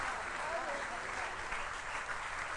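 Devotees at a temple gathering clap together in a steady, dense wash of applause, with a voice partly audible through the noise.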